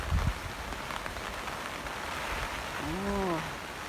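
Heavy rain falls outdoors before a storm at a house with a banyan hedge along the front, a dense, even hiss of drops. Brief low sounds break in near the end.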